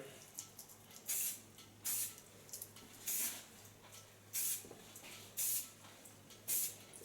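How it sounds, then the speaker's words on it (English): Short bursts of hairspray misted onto fine hair while styling, several separate hissing puffs spaced about a second apart over a quiet salon background, fairly soft and close. "Then I take a little bit hairspray."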